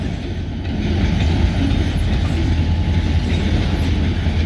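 Escanaba and Lake Superior Railroad locomotive 503 makes a loud, steady rumbling drone with a continuous low mechanical hum, heard close by and at night, with no voices.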